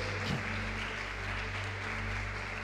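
A church congregation applauds during a service, a steady wash of clapping that is fairly faint and even throughout, with no one speaking over it.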